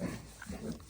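Farm pigs waiting indoors to be let outside make faint, low grunting snuffles close by over a muffled background.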